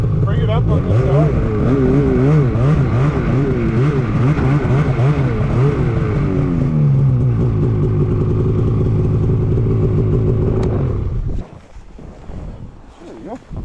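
A newly bought snowmobile, recently crashed on a frozen lake with a damaged ski loop, has its engine running loud and close, pitch rising and falling as it is pulled forward, before the motor cuts out near the end.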